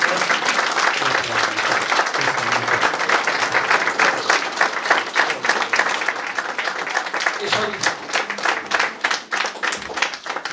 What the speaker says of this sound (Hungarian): És a nagy tapsot még megérdemel.